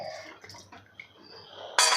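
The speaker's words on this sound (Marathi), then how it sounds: "आता डब्यामध्ये सुद्धा काही पाणी घालून मी यामध्ये घालणार आहे" Light clinks in a quiet kitchen, then water is poured from a container into a pot of Maharashtrian panchabhel dal amti, a sudden short splash at the very end.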